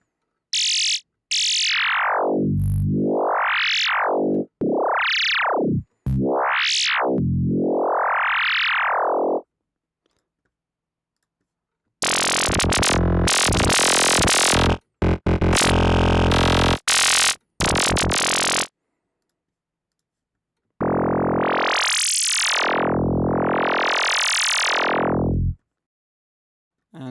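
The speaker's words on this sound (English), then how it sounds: "making these bubbly nightpsy type sounds" Bubbly Nightpsy-style synth tones built in the Vital synthesizer, with rapid pitch sweeps bouncing up and down in wobbly arcs, then a dense distorted burst, then more swooping bubbly sweeps, loud and alone with silent gaps between.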